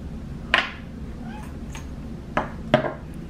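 A pet cat meows indoors, three short, close calls spaced across a few seconds with a faint trill between them, no talking over it.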